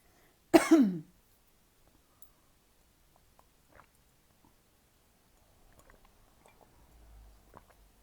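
A single short cough rings out close by, followed by near silence with a few faint clicks and rustles.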